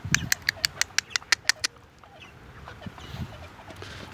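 Chickens in a coop give a rapid burst of about ten sharp, evenly spaced clucks up close, then quieter scattered clucks and rustling follow.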